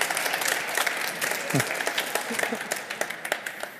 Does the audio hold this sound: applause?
yes